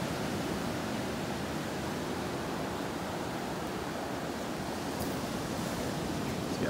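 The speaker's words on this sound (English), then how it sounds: "It's gorgeous out here, the waves." Ocean waves wash steadily on a sunny morning, a broad constant roar of surf with no distinct breaks, fairly close and unaccompanied by voices.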